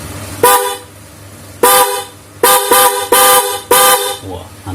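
A genuine Denso car horn honks five times at close range, with a single blast, a pause, then a quick pair, and two more loud blasts over a low engine idle.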